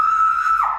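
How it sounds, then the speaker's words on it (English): A teenager being arrested lets out a single loud, sustained high-pitched scream that holds steady, then bends downward and trails off at the end. "No need to scream."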